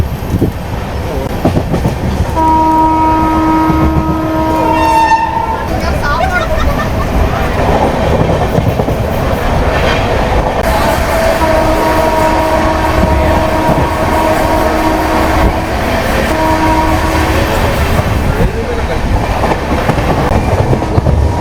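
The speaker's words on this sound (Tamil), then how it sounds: "அதனால் வந்து நம்ம லூப் எடுத்து வந்து நம்ம வந்து செகண்ட் பிளாட்ஃபார்மில் அரைவ் ஆகிட்டு இருக்கோம்" An Antyodaya Express train pulls into a station platform, with loud continuous rumbling, rail clatter and squealing brakes near the microphone; a voice speaks briefly.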